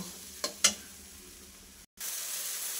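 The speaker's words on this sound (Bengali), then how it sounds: "এবার এই মশলাটা দিয়ে আমি ভালোভাবে আবার কষিয়ে নেব।" Ground spice paste fries in a pan, giving a steady hissing sizzle broken early by two sharp clicks of a utensil and a brief cut to silence.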